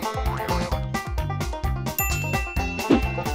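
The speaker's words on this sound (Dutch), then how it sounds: "Hoera, ik heb mijn fietsbel teruggevonden." A bicycle bell rings repeatedly in a steady, quick series of bright metallic dings, close and clear, in a children's cartoon setting.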